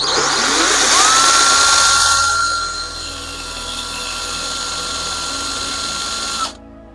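A handheld electric drill spins a small motor at maximum speed, giving a loud steady whine that rises at the start, holds, then softens a little before cutting off abruptly near the end, with no talking.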